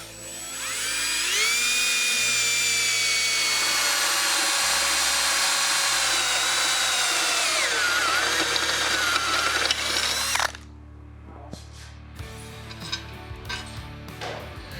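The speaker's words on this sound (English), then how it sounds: "we're gonna go ahead and drill out those 2 holes." A power drill whines at high speed for about ten seconds, drilling two holes during a Yamaha TT250 motorcycle storage build, pitch shifting under load, then stops, followed by scattered clicks and clatter.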